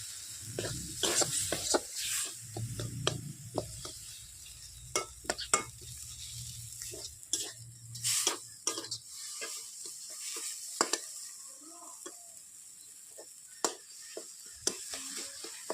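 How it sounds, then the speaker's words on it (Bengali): Spice masala frying in a pan with tomato being stirred in while cooking ghugni: a steady sizzle broken by sharp scraping stir strokes, with a low bubbling rumble in the first half and no talking. "মশলাটা ভাজা হয়ে গেছে, একটু টমেটোটা মিক্স করে দিচ্ছি মশলাটাতে।"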